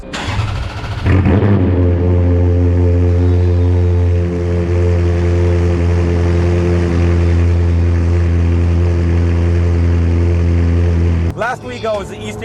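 A straight-piped Ferrari F430 with a manual gearbox fires up with a sharp bark, then settles into a loud, steady, raspy idle held for several seconds nearby.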